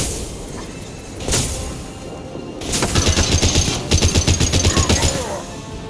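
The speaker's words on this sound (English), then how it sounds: "Taking heavy fire!" Heavy automatic gunfire in the Mass Effect 2 video game, with loud, fast bursts of rapid shots in two long volleys alongside a few heavier single blasts.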